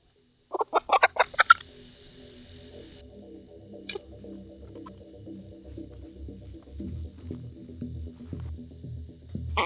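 A chicken held in the hand gives a quick burst of loud clucks, then low, soft clucking and muttering continues nearby.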